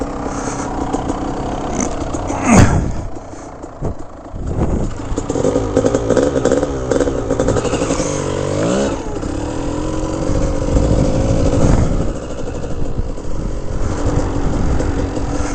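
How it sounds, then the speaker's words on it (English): A Kawasaki KDX 200 dirt bike engine runs close by while being ridden, its two-stroke buzz rising and falling with repeated throttle revs and shifts over steady wind rumble. "Just riding out today on this KDX 200"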